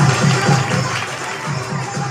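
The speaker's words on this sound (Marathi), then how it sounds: "जरा टाळ्या जोरदार जोरदार" An audience claps loudly and cheers during a Home Minister game show held in front of a Ganpati idol. The applause is dense and continuous from start to finish.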